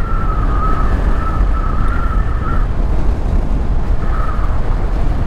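A motorcycle engine whining as it accelerates from 0 to 60, a loud, steady roar with a high, siren-like tone rising and holding, dropping briefly, then returning, with no talk.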